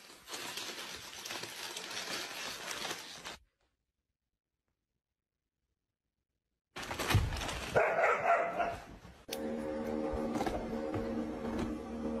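A pet dog reacts to a finger held up to its face, giving a few close barks and yips between silent stretches, with a steady mechanical hum in the background.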